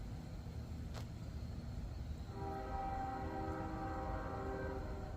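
An Iowa Interstate freight train sounds its horn at LaSalle, a sustained multi-tone blast that begins about halfway through over a continuous low rumble of rolling railcars and engine noise.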